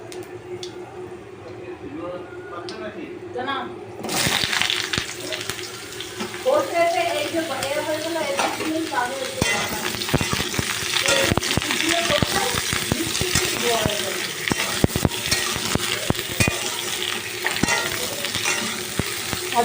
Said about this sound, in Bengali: তেলটা এখানে গরম বসিয়ে দিয়েছি পাঁচ ফোড়ন আর একটা সোনা লঙ্কা ফাটিয়ে দিয়ে দিলাম